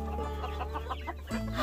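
Chickens clucking nearby, short throaty calls in quick succession, fairly quiet.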